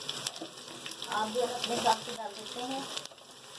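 Masala spices with garam masala, turmeric and salt fry and sizzle in a pan for a white matar pulao, a soft close crackle with faint stirring scrapes.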